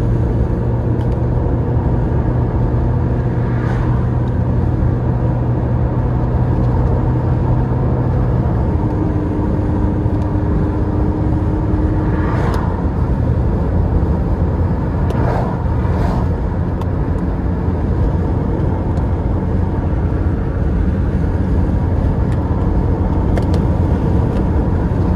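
A car descends mountain Highway 38 from Big Bear toward Redlands at 55 mph, heard from inside as a loud, unbroken road rumble and engine drone that lasts throughout, with no talking.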